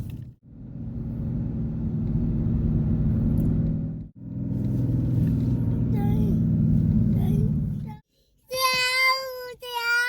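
A car driving, with a steady low engine rumble and road drone filling most of the stretch, briefly dropping out twice; a voice chatters over it near the end.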